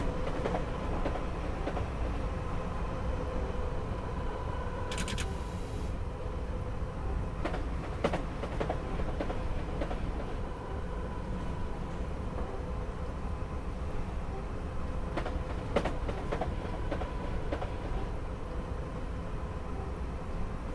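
A Class 319 electric train on the London to Brighton line runs through Purley station without stopping, at line speed, producing a steady, loud rumble of running gear with rail clatter and brief squeals throughout, with no talk.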